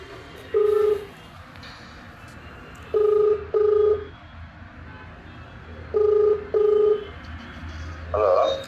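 A telephone call rings out: repeated paired electronic ringback tones at a steady rhythm over a faint room background, with a brief voice near the end.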